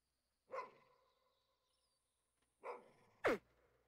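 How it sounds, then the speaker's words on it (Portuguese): A dog in the hunting game The Hunter: Call of the Wild barks three times, spaced out with a long gap after the first, the last bark sharpest, over a quiet background, no talk. "O cachorro tá brabo ali, não?"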